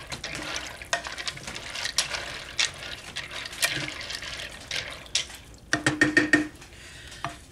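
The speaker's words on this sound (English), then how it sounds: "I'm going to give this all a stir and get this all mixed into the liquid." Garlic powder and mustard being stirred into liquid in a crockpot for mac and cheese: scraping, clinking utensil sounds and sloshing up close, in irregular bursts with a denser run of strokes near the end.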